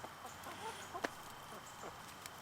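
Laying hens cluck faintly in the background with scattered soft calls and one brief sharper note, set against a low, quiet outdoor ambience.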